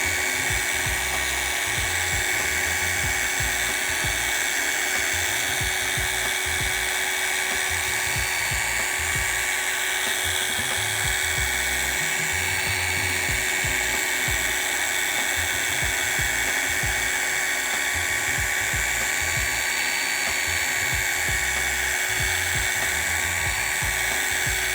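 Mini polisher whirring steadily against a surface in level, cross-hatch passes, a continuous high-pitched motor whine with no voices.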